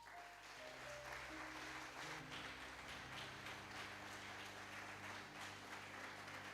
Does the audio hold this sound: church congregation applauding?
yes